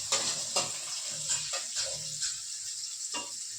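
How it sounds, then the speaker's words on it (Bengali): Spices fried in a pan with onion and oil, a steady sizzle broken by several scraping stirs of a spoon against the pan, close and fairly quiet. "এবার মশলা কষাবো।"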